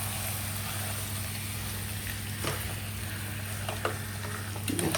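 Prawns sautéing in a pan, with a steady sizzle and a few light scrapes of stirring over a constant hum.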